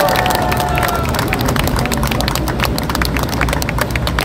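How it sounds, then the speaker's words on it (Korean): Crowd applause at an outdoor campaign speech in Busan's Geumjeong district, dense and loud with scattered sharp claps over continuous crowd noise and mixed voices. "박수 한번 주십시오."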